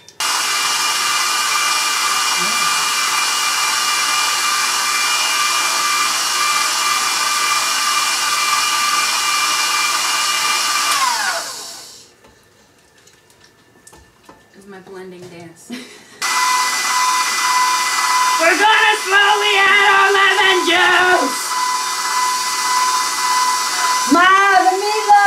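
Electric mixer creaming lemon cream cheese frosting whirs loudly and steadily, cuts out for a few seconds while people talk, then starts up again with a shifting hum under more speech.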